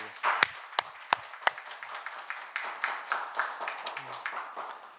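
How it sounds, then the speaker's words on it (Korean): Applause at the close of an Ulsan Metropolitan Council education committee session opens with a few sharp, separate claps, then settles into softer, thinner group clapping that tapers slightly toward the end. "큰 응원의 박수 부탁드리겠습니다"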